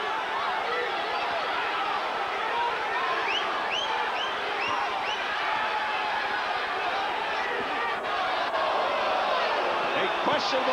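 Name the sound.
boxing crowd reacting to punches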